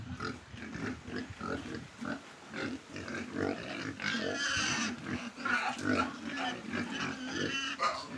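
About two dozen pigs in a farm pen grunting and oinking steadily throughout, several animals close by, with shuffling movement and a few higher squeals mixed in.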